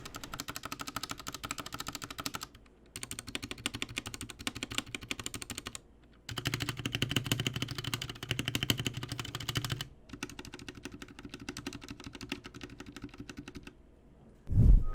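Typing on an RK G68 mechanical keyboard with stock switches, with dense, steady clicky keystrokes in several bursts separated by short pauses, close and alone, ending in a heavier thud.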